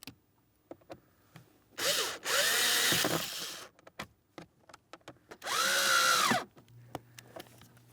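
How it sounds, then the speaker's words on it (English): Power drill driving the mounting screws of a front HVAC blower motor assembly on a 2008-2016 Chrysler Town & Country, two close, loud whirring bursts with pitch rising and falling, separated by clicks and handling noises. "I've installed all 3 of my mounting screws and this is properly secured"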